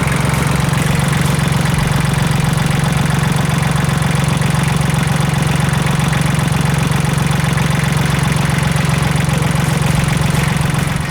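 A Kubota L-1802 DT mini tractor's three-cylinder 1.1-litre Kubota D1102 diesel idles steadily and continuously, a low rumbling throb with a rapid, even knock throughout, close by and loud.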